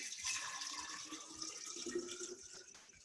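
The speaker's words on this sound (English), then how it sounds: "So I'm gonna grab my water that's been filtered, and you add it into this jar." Filtered water pours steadily into a glass jar of about two liters while a fermented soda is made, a continuous close splashing rush with no talking.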